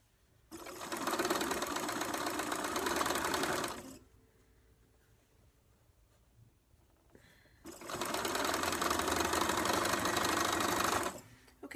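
A sewing machine stitches canoe fabric seams in two loud, steady runs of rapid mechanical chatter, with a quiet pause between them.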